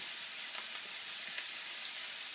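Onions and garlic frying in a pan, a soft, even hiss of sizzling oil, steady and fairly quiet with no other sounds.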